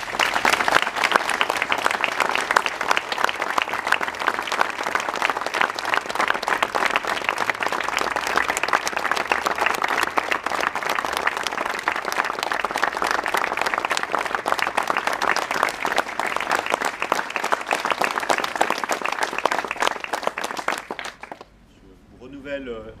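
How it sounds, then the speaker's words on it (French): A civic gathering in Barentin applauds public safety workers, a loud, dense crowd clapping that holds steady for about twenty seconds before dying away abruptly. "Je vous demande de les applaudir."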